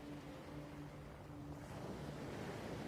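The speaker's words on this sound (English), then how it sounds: "Neve liked the sound of the ocean." Ocean waves roll in with a steady broad hush and pull, continuous surf wash heard from a distance with light wind, no voices.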